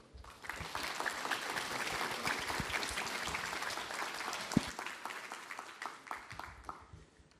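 A conference hall audience applauds steadily to welcome a speaker to the stage. The clapping is dense and continuous and sounds moderately distant, building quickly and then thinning out toward the end.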